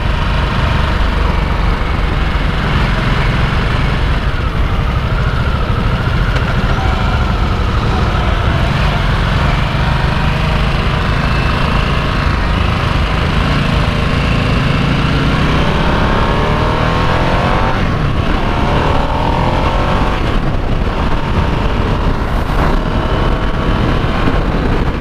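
A Harley-Davidson Nightster motorcycle engine revs hard and steadily while riding, a continuous loud roar with rising and falling pitch as it accelerates and shifts.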